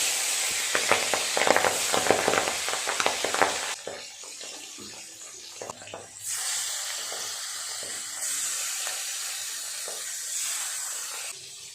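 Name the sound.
pabda fish frying in hot oil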